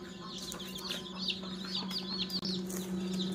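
Brood of chicks, Dominant Brown parent stock, chirping and clucking continuously at close range over a steady low hum, dense overlapping peeps without pause.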